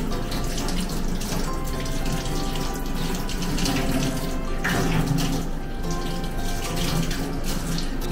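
Tap water runs steadily into a sink as ginseng roots are rinsed and scrubbed clean of soil, a continuous close splashing wash with no talking.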